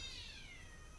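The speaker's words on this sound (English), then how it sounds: "Stray cat outside." A stray cat meows outside, one drawn-out, wavering cry that holds steady for about a second, fairly faint and heard alone with no voices.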